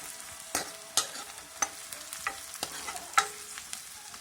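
Onions sizzling softly in a pan, with a spoon scraping and stirring in irregular strokes every half second or so, close and quiet.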